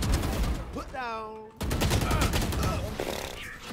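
Rapid gunfire in the video game Valorant pours out in dense, loud bursts nearly throughout. A short voiced cry rises in the middle over a brief lull.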